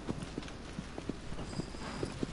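Horse hooves clip-clopping at a steady trot in the Shadow of the Colossus video game, regular thuds fairly near under a faint high tone.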